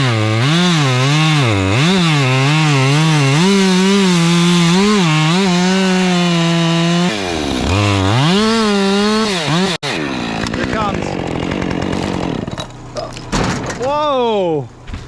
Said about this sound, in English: I'll cut a baby notch with my, while I'm waiting for you